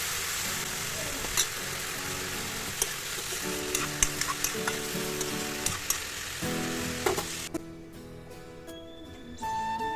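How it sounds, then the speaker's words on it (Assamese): Food frying in hot oil in a home kitchen gives a steady crackling sizzle, broken by occasional utensil clinks and stirring noises, with a faint background hum. "এয়া ভাজি আছোঁ"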